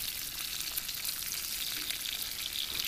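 Bacon frying over a campsite stove in the red rock country of Utah, a steady, soft crackling sizzle with fine popping, continuous and fairly quiet throughout, with no voices.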